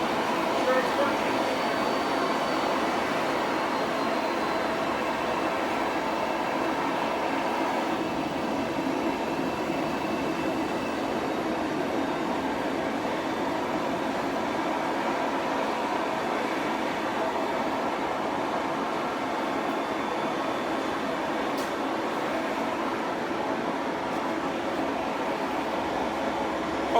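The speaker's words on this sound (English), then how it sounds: "Now I'm going to back the forge down from welding heat." Gas forge roaring steadily after being turned down from forge-welding heat, a constant broadband rumble and hiss that stays close and even throughout with little variation.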